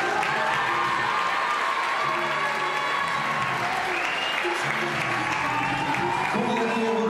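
A pageant audience at the Miss Saône-et-Loire 2014 contest claps in loud, sustained applause filling the hall, steady throughout with faint crowd murmur and a little cheering underneath.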